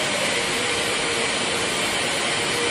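LeBlond 31x120 NI lathe spindle turning at 45 RPM, a steady, even mechanical hum and whir with no rhythm changes, fairly faint and continuous, no talking.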